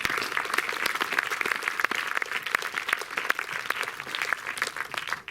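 Cinema audience at the Méliès in Montreuil applauding the film's distributor, a dense, steady wash of many hands clapping throughout, fairly loud and continuous with no talk over it.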